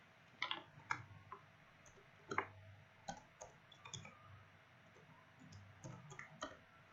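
Computer mouse clicks while logging in, several sharp clicks scattered irregularly, fairly quiet and close, with no talk.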